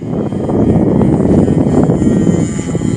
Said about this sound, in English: Let's hear this engine roar here now.